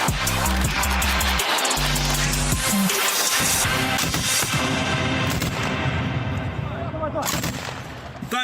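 Loud, dense gunfire at a military firing range, with rapid bursts and overlapping shots and booming reports, continues without pause throughout.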